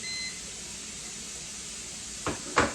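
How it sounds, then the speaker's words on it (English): A kitchen timer beeps briefly and faintly at the start, during pressure canning of teriyaki chicken wings, followed by quiet room hiss and two sharp clicks or knocks near the end. "My timer just went off."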